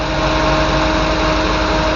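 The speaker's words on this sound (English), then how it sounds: "we're just having the engine run a little bit and get the oil cycling" MGB car engine idling after an oil change, a loud, steady, close hum with a constant tonal drone and no change in pace, alone without voices.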